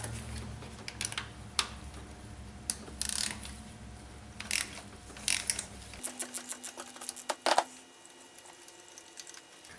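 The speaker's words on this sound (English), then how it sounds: "So I'm using a spark plug socket 5/8 along with the 8-inch extension 3/8 drive to get me down into that well" A 3/8-drive ratchet turns a 5/8 spark plug socket on an 8-inch extension in the engine of a 2011 Ford Fiesta, with rapid clicking pawl bursts close by and brief pauses between strokes.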